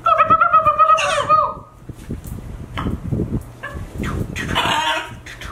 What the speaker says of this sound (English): A bird fight.